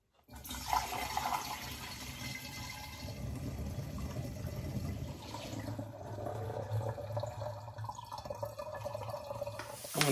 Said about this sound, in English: So I'm going to pour this back into the original demijohn.